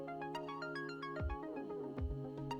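A phone notification or ringtone chime plays as a short run of bright, stepped electronic tones, fairly clear, with low sliding swoops and no talking.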